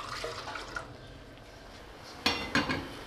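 Water is poured into a cooking pot in a village kitchen to make sweet vermicelli, giving a brief splashing burst with faint clinks of cookware at the end of a quiet stretch.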